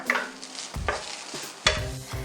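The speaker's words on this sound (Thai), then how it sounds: "ให้ใส่ปลาดุกลงไปเลยค่ะปลาดุกเนี่ยเราสับหยาบ ๆแล้วก็เอาทั้งเนื้อทั้งหนังเลยนะคะ" Coarsely chopped catfish, flesh and skin, dry-roasted in a pan for Isan-style larb, with a soft sizzle broken by several scraping stirs of a utensil against the pan, close and without talk.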